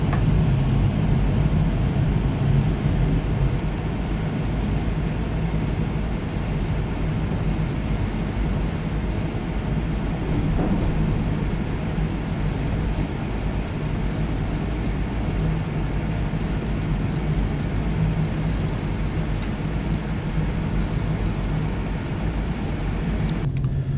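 A Canadian passenger train rolls along the rails with a steady, moderately loud rumble and constant wheel noise from start to finish.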